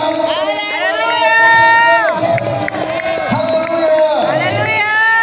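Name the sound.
church congregation clapping and shouting hallelujah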